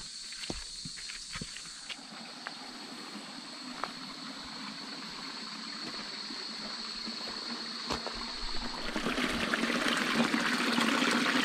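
Water flowing over a rainforest riverbed in French Guiana, a steady close rush and trickle with occasional footstep-like knocks, growing louder and brighter toward the end.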